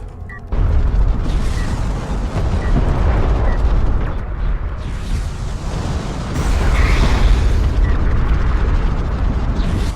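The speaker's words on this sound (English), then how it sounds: "It's a good use of the cruise missile there, able to fight the railgun." A cruise missile detonation in a naval strategy video game roars as a loud, sustained blast, a dense rumbling burst that kicks in suddenly and keeps churning, with a second surge of explosive noise near the end.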